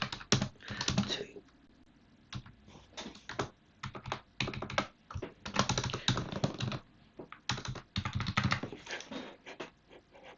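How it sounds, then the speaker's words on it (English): Typing on a computer keyboard at a desk: quick irregular bursts of key clicks, close and fairly quiet, with short pauses between runs. "So here, I'm just typing this in"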